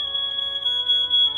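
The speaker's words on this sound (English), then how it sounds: "Please excuse the smoke alarm in the background," A smoke alarm gives a continuous high-pitched electronic beep, loud and steady for the whole stretch, while dinner cooks, with a low hum underneath.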